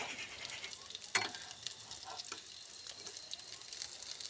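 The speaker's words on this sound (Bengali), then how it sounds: "কড়াইতে সর্ষের তেল দিয়ে কড়াইতে ভালোভাবে তেলটা গরম করে ছোট ছোট সাইজ করে বড়াগুলো দিয়ে দেব" Small raw green banana fritters frying in hot mustard oil in a wok, a soft continuous sizzle close by with occasional stirring clicks and one sharp clack, no talking.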